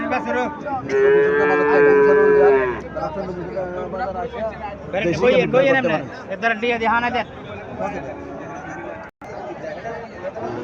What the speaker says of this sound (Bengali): এখানে একটা দেশি গাভী দেখা যাইতেছে।